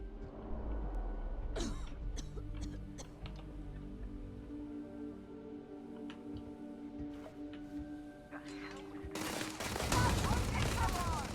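Laser guns fire in rapid bursts during a Starfield sci-fi shooter fight, sharp zaps and impacts layered over a steady game ambience and music, with a louder noisy blast near the end.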